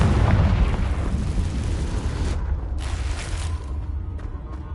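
A Confringo spell blasts in the video game Hogwarts Legacy, a loud, rumbling explosion that booms at the start and then slowly dies away with a crackling tail.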